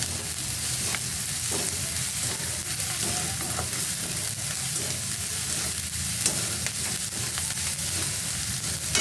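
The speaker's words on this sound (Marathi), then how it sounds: "हळद आणि मीठ पण छान असं परतून घ्यायचं कांदा टोमॅटो सुद्धा" Onion and tomato sauté in a hot pan with turmeric and salt, a steady close sizzle with stirring scrapes running throughout, no talking.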